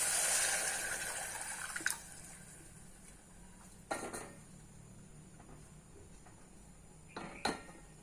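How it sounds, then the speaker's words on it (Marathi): Hot water is poured into a pan of sautéed moth beans, giving a loud rushing hiss at first that fades, followed by a few scattered clinks and knocks of a pot and spoon. "हे गरम झालेलंच पाणी आपण यात टाकायचं."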